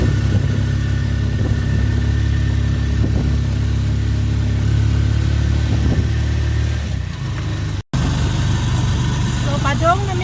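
Motor tricycle engine running steadily close by during a ride, a low, even drone holding throughout with a brief dropout near the end, and people talking over it.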